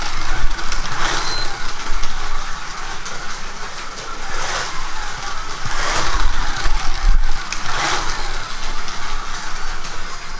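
A Carrera slot car with its magnets removed laps a track on a timed ten-lap run, a steady whirring electric motor hum with a swell each time it passes close by.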